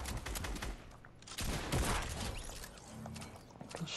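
Bursts of gunfire in the Fortnite video game, a rapid fusillade of shots with mechanical clatter over a few seconds, fairly quiet in the mix and with no talking.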